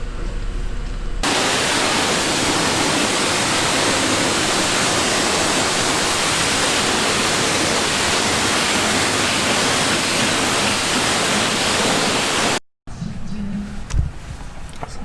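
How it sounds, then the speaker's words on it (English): Loud, steady broadband hiss of water spraying onto an overland rig being washed after a day of driving, running continuously for about eleven seconds before cutting off abruptly. "Some might consider it a little bit OCD to wash the rig off after one day of driving"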